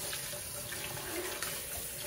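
Water runs from a kitchen tap to rinse something out while baking glazed cinnamon raisin bread, a steady close hiss of flowing water that fills a short stretch with no talking.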